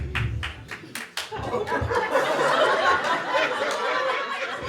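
An audience claps, starting with a few separate sharp claps that build into scattered, overlapping applause mixed with chuckles and chatter.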